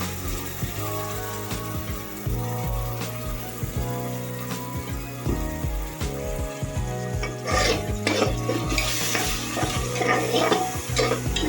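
Freshly ground ginger-garlic paste being stirred in a hot pan, giving a continuous close sizzle with repeated scraping and clinking of a spoon against the pan, over a faint steady tonal background.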